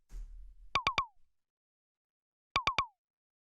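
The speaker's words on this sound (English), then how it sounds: "So this is the simple little zap sound that I made using FM." An FM-synthesized percussion zap on the note F fires in two quick bursts of three downward-sweeping blips, separated by silence, after a brief low thump.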